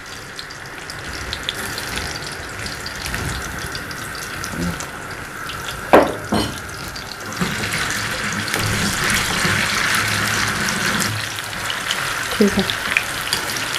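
Finger chips frying in hot oil while a chicken cheese sandwich meal is being made, a steady bubbling sizzle throughout with a couple of sharp clatters, and a voice speaking briefly over it.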